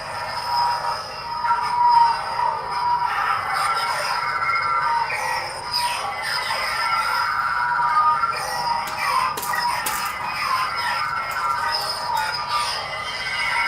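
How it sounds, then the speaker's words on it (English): An LGT toy lightsaber with a Moff Gideon Darksaber sound font and unstable blade gives a crackling, sputtering electronic hum with metallic whines and scraping flickers, steady and close with no talking. "I've got the Moff Gideon sound font on here, so it's the dark saber"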